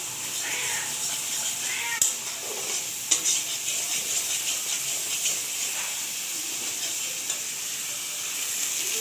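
Pointed gourd (potol) frying in oil in a pan, a continuous bright sizzle and hiss with occasional soft knocks of a spatula.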